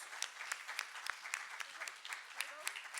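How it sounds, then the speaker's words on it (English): An audience at a public dialogue on reparatory justice in The Bahamas claps steadily, a dense patter of many hands at moderate distance that carries on evenly throughout. "Give yourselves a round of applause."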